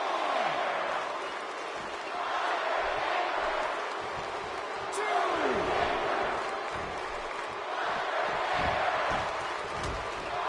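Virtual arena crowd in a PS4 wrestling video game roars and cheers steadily throughout, a dense wash of voices that swells in waves without pause.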